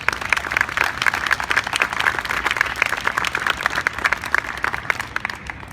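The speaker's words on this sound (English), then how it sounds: "Let's give them a round of applause." A crowd at an outdoor Back the Blue rally at the Michigan State Capitol in Lansing claps and applauds, a loud, busy roar of many hands with sharp individual claps, sustained throughout.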